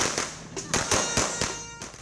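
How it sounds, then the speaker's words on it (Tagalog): Kwitis and Judas belt firecrackers set off for the New Year go off in a rapid irregular series of sharp, loud cracks and pops, with a faint whistling tone and some background voices. "sabay-sabay nindang pinaputok ang Quitis asin Judas Belt"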